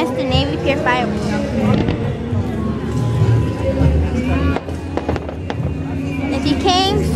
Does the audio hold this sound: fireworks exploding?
yes